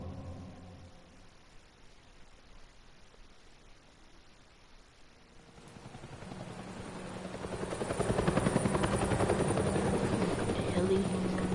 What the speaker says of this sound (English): aka helicopter for slow people.